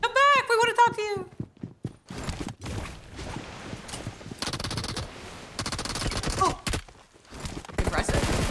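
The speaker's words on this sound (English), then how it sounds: "that guy is just unloading clips in the corner" Rapid gunfire in an online duo-squad shooter game, with someone unloading full magazines in a corner: bursts of sharp shots crackle through the middle and end of the clip, under game sounds and talk.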